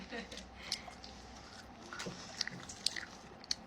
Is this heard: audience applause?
no